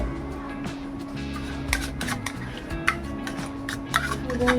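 Metal clinks and scrapes as a lid is set on a pot of chicken biryani in a home kitchen, several faint taps and clatters against a steady background hum.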